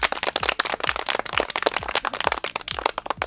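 Children in a village classroom clap together in a dense, steady round of applause, close and lively, with sharp individual claps rattling throughout.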